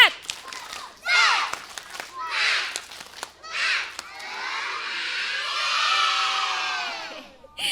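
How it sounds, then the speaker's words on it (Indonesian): Kindergarten children at a school event shout and clap together in a rhythmic spirit clap, bursts of chanting and clapping building into a sustained cheer, lively and close. "Tepuk semangat."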